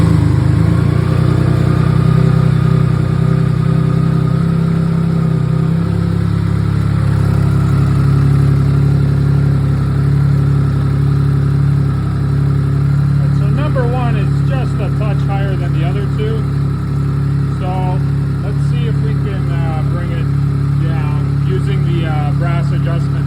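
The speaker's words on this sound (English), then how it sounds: "we're gonna fire up the bike and see where it's sitting" A BMW K75 motorcycle engine runs at a steady idle throughout, a continuous low hum close by, with voices talking over it in the latter half.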